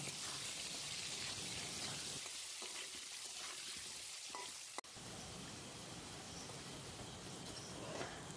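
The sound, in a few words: potatoes frying in oil with salt and turmeric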